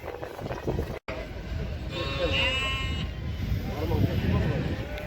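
Ewes with lambs bleating amid the bustle of a livestock market in Almaty, with several rising calls cutting through steady crowd noise and chatter for a few seconds.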